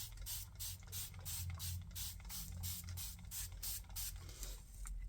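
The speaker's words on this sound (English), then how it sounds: "So now what we want to do is we want to spray it." A handheld spray bottle of water is squeezed repeatedly in a quick even rhythm, each burst a short hissing spritz, close up and fairly quiet over a low background hum.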